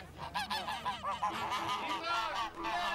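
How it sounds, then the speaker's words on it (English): Geese honk repeatedly and loudly at close range, several birds calling over one another in a dense, overlapping chorus. "Geese were also brought out for traditional fights."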